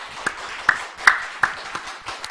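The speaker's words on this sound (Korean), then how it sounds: "하나님 앞에 우리 영광의 박수 한번 올려드리겠습니다." A small church congregation gives a few scattered handclaps during a Sunday service, about six sharp, separate claps spaced unevenly and fairly quiet, with no voices over them.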